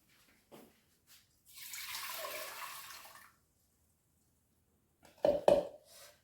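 About 700 ml of water poured into the tank of a kitchen cooking appliance, a steady splashing pour lasting under two seconds, then quiet before a couple of louder close clunks and a short splash.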